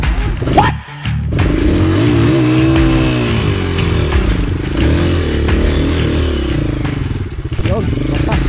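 A motorcycle grinds up a steep dirt trail in first gear, its engine loud, close and steady and straining with rising and falling revs, while people talk over it.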